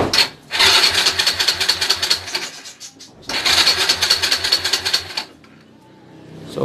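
A motorcycle with no key, wired up for an electric push start, cranks in two loud rapid whirring bursts of several seconds each, separated by a brief pause, then falls quiet.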